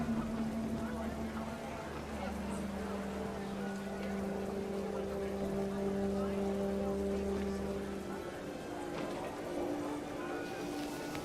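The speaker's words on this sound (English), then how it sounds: "Rain came down in buckets then" Rain falling in the video game What Remains of Edith Finch, a faint steady patter under sustained low tonal drones and a narrating voice.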